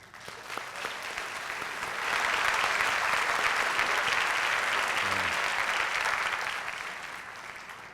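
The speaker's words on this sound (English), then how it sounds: "Let's join together in a round of applause." An audience applauds grant and award winners at the North Canton Education Enhancement Fund event, clapping that swells to a full, sustained roar of hands and then gradually thins toward the end.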